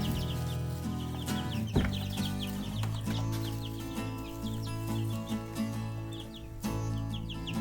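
Homestead chickens cluck and chirp busily near a feeder being topped off with 20% protein chick feed, a dense mix of overlapping bird calls with occasional clanks and rustles, no voices.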